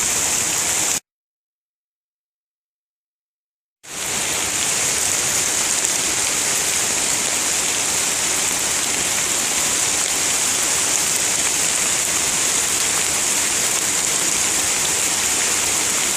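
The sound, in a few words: heavy rain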